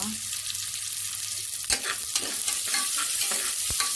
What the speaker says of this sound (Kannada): ಇವಾಗ ನಾನು ಇದಕ್ಕೆ ಈರುಳ್ಳಿಯನ್ನು ಹಾಕ್ಕೊಡ್ತೀನಿ. ಈರುಳ್ಳಿ ಸ್ವಲ್ಪ ಎಣ್ಣೆಯಲ್ಲಿ ಸ್ವಲ್ಪ ಬೇಯಬೇಕಲ್ವ.